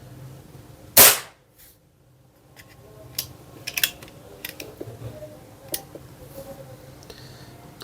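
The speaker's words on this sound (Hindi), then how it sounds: "तो 14 शॉट्स हो चुके हैं," Nova Vista Cobra PCP air pistol: one sharp, loud shot near the start, followed by quieter clicks and small handling taps scattered across the rest.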